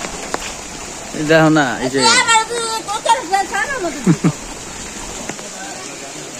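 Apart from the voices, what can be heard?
rain falling in a village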